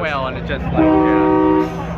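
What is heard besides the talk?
train horn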